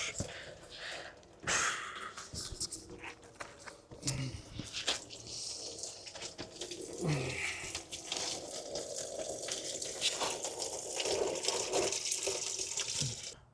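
Coolant gushes and splashes while draining from a Ford 6.0 diesel Super Duty truck, a continuous watery rush with irregular bursts that grows slightly louder.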